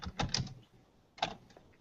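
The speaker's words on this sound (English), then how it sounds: "I can hear keys tapping." Computer keyboard keys tapping in two short bursts separated by a pause, faint and slightly distant as if picked up through a voice-chat microphone, with no talk.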